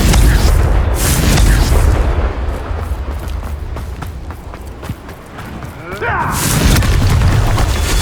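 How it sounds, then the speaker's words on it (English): Booming explosion spell cast in the fantasy action game Hogwarts Legacy, a dense rumbling blast that swells loud at the start, dips under a continuous wash of game noise, then surges again near the end. "Confringo."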